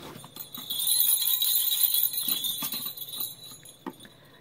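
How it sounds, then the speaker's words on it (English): Small jingle bells shaken during a Christmas snowman gift card holder craft, a bright continuous tinkling that swells and fades with a few sharper jangles near the end, close by with no talking. "Yep, got some jingle bells."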